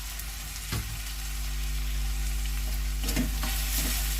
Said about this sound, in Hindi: इन मसालों को डालकर अच्छी तरह से लो फ्लेम पर भून लें